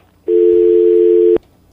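A steady telephone line tone on a radio call-in show, one loud unbroken pitch lasting about a second before it cuts off abruptly.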